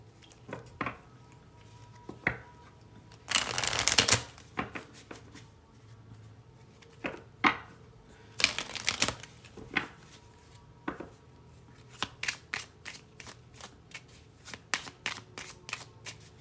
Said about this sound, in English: So let's pull a few other cards here.